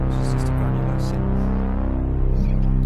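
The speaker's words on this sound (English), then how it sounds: "This is just a granular synth." A granular synth holds a thick, buzzy sustained drone with many layered harmonics, loud and continuous throughout, with faint grainy flutters on top.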